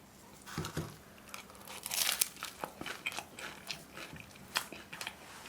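Fougasse, a leaf-shaped bread, dipped in wasabi mayo is bitten and chewed close up, giving a steady run of crisp crunches and crackly chews with no talking.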